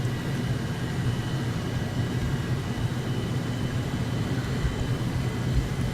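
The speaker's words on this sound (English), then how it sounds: "they added some friendly planes in" Aircraft engines drone in the War Thunder video game, a steady low rumbling roar that carries on throughout with no break and no voices over it.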